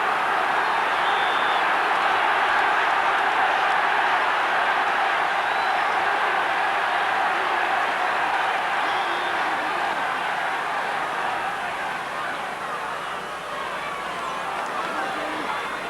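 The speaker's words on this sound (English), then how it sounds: "The crowd rising to Clare again." A large crowd at a 1986 Munster Hurling Championship match between Limerick and Clare roars and rises for Clare, a broad sustained cheer that swells and holds, with a commentator talking over it.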